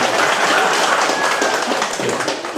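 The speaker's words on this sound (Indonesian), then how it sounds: "Tepuk tangan, Anda betisai." A crowd claps at a military district compound in Ruteng, Manggarai, a dense, steady wash of hands lasting the whole moment with faint voices mixed in.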